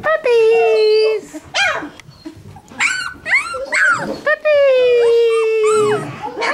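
Puppies whimper and yip nearby in high, drawn-out whines and short sharp cries, with a few growly notes mixed in, loud and close.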